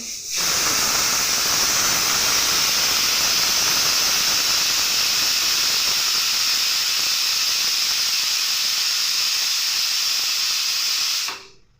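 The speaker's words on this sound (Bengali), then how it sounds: "প্রেশার কুকারে আমার বিড়ালের জন্য ভাত দিছি" A pressure cooker cooking rice releases a loud continuous jet of hissing steam, close and steady for about eleven seconds before cutting off abruptly.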